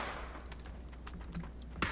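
Gunfire in a battle-royale style video game: a few faint, distant shots pop sparsely over a low background hum, with no talking.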